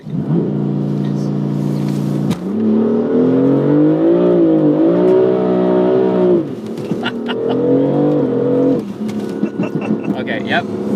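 A BMW M4 Convertible launches hard from a standstill with traction control fully off, its engine rising loudly through rising revs with gear-change dips, ending in a brief lift; voices talk intermittently over it.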